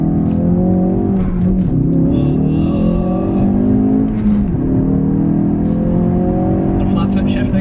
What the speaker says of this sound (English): it's easy to do launch control. We just come to a stop, first gear, clutch in, floor it,